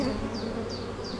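Honeybees buzz steadily around an open production hive during a super placement, a dense continuous hum with a few louder individual bees passing close.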